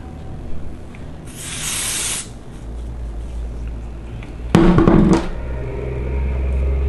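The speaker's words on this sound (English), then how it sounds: "I literally just spray the whole place like I can." Adhesive spray is applied to the lace of a glueless wig in two short hissing bursts, the first about a second long, the second briefer and louder, over a low steady background hum.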